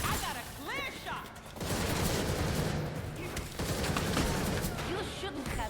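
Rapid bursts of gunfire fill a Gotham Knights firefight, dense overlapping shots rattling on and off for several seconds while voices shout over the din.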